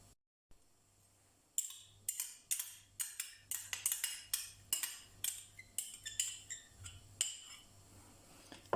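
A spoon or fork scraping and clinking in a bowl while snack ingredients are mixed with cheese and mayonnaise, a series of sharp, rhythmic metallic taps and scrapes, close and clear with no talking.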